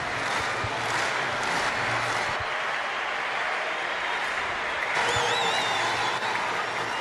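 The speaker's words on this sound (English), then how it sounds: "Crowd getting involved with this, aren't they?" A stadium crowd at an athletics meeting in Rabat builds a rhythmic clap during the long jump, a broad roar with periodic claps, and a whistle rises above it near the end.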